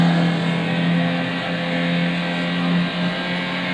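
Steady drone of a 1999 Nissan March G with a 1.3-litre 16-valve engine and five-speed manual in Gran Turismo 6, held at a constant loud pitch with slight swells and no talking.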